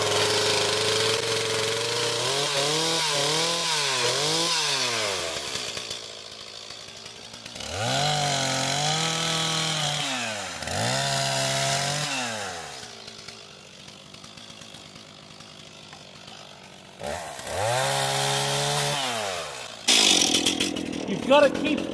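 A chainsaw cuts firewood logs, revving up and bogging down through several cuts in a row, its high buzzing whine changing pitch with each pass and dropping to an idle between cuts, close and loud.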